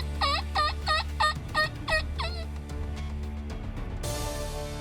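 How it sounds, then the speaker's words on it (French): A wild turkey gobbles in a rapid rattling burst of about seven notes, loud and close, over a low rumbling background, hunting season in Montérégie, Ontario. "C'était un dindon ou une dinde"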